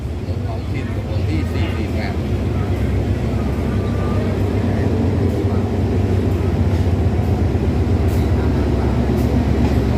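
Thai ordinary passenger train number 448 rumbles steadily at a railway station, a loud continuous low mechanical drone with faint higher clanks, sustained and close throughout.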